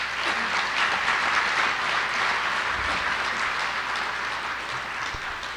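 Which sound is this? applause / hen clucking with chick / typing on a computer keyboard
applause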